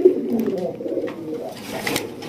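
Raj Golla pigeons at a Bangladeshi pigeon farm coo close by in low, throaty, rolling calls, the cooing loudest at first and then fading toward a quieter, rustling background.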